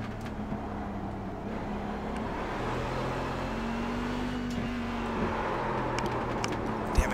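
A Cadillac CTS-V race car engine in the iRacing game at Okayama drones steadily and fairly faintly, its tone rising and falling slightly as the throttle is pushed, with no one talking.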